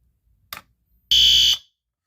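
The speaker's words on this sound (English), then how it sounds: "I installed the system sensor horn strobe up." A single short, loud blast from a System Sensor fire alarm horn strobe, preceded by a sharp click.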